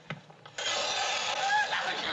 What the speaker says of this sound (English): Egg beater.